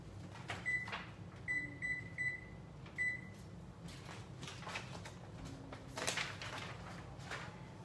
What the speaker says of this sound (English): I plan to make my pasta in my microcooker in the microwave